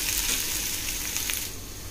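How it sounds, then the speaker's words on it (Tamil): Finely chopped onion frying in sunflower oil in a kadai, a steady bright crackling sizzle close up with faint stirring, no talking. "ஒரு கடாயில் சன்ஃப்ளவர் ஆயில் விட்டு பொடியாக நறுக்கின ஆனியன் போட்டிருக்கேன்"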